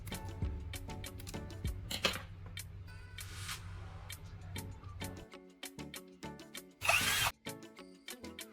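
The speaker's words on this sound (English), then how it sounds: "Attach this mixing tip to a drill to increase the mixing speed." A power drill spins a mixing tip made of zip ties tied to a wooden stick, stirring silicone in a cup, heard as a close mechanical whir with several short bursts and clicks.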